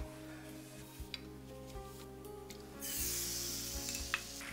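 Oil sizzles in a pan as a thin omelette of egg and starch slurry is frying, a soft close hiss that grows brighter partway through, with faint scraping touches and no talk.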